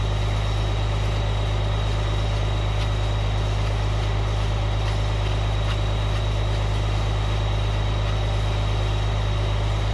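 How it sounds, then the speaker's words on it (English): An M35 military truck engine idles nearby in a steady, deep low rumble that holds unchanged throughout, with a faint higher hum above it and no talking. "I know you hear the truck running"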